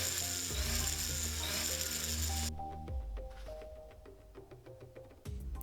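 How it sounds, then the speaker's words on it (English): A jeweller's polishing motor runs as gold rings are buffed with Tripoli compound, a steady humming drone with clicks and rubbing that drops in loudness partway through, then a brief return of the hum at the end. "I go straight to using Tripoli and remove any surface scratches"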